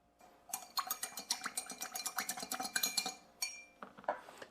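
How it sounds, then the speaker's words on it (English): A spoon stirring a mixed drink with bitters in a glass, giving a quick, rhythmic run of bright clinks and scrapes. There is a short pause, then a few final taps, close and clear, with no talking. "Then we're gonna give this a good stir."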